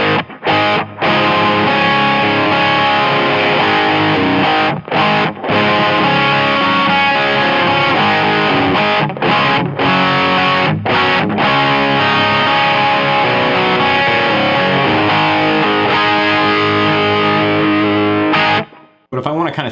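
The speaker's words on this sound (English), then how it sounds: "So here's a crunchy drive sound, once again, just with a little bit of reverb." An electric guitar plays crunchy overdriven chords and riffs through a Palmer MACHT 402 stereo power amp with subtle stereo reverb, loud and continuous with a few brief gaps.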